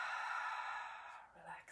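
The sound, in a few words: deep breath exhaled out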